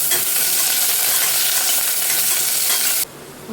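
Long-sliced big onions sizzling and frying in hot oil in a pan while being stirred, a loud close steady hiss with faint scraping, cutting off abruptly near the end.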